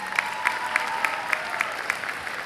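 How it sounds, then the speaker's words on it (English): Graduation audience at the PALCS commencement applauding a graduating student, with sharp, rhythmic unison clapping beats at regular intervals over a steady wash of applause, moderately distant. "Clap it up for Claire"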